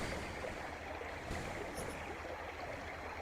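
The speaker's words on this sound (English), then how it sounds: "Hear the water, the river rushing right in front of me." A river rushes steadily nearby, a continuous broad wash of flowing water with no breaks and no voices over it.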